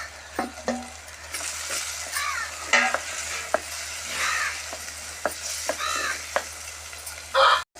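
Chopped tomatoes sizzle and fry in a pan for kora bobbarlu curry, with intermittent scraping stirs and occasional clinks of the spoon against metal over steady frying hiss, close and moderately loud, no talking.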